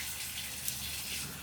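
Water pours steadily into a bowl of gram flour batter for kari pakora, giving a continuous close, gushing splash with no speech.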